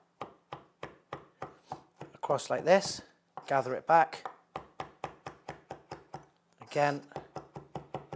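Knife chopping vegetables on a cutting board: a steady run of crisp, evenly spaced knocks up close, with a person talking over the chopping between runs.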